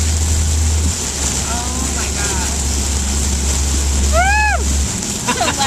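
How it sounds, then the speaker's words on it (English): Heavy rain drums steadily on a car driving along a highway in a downpour, a dense constant roar throughout, with voices talking over it and brief tonal squeaks near the end. "There's so much rain."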